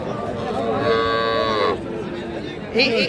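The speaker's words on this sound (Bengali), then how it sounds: "এই পাশেও একটা সার বাছুর দেখতেছি আমরা" A young bull calf at a cattle market lets out one drawn-out, fairly close moo, with people chatting in the background and a brief second call beginning near the end.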